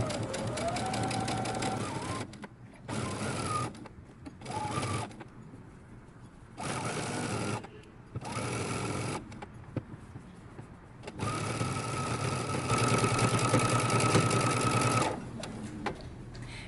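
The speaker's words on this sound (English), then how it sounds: "we're going to go ahead and take this to the sewing machine and we're going to stitch through both layers" A sewing machine stitches through two layers of sweatshirt fabric in several bursts of rapid mechanical whirring separated by short pauses, loud and close, with a longer steady run near the end.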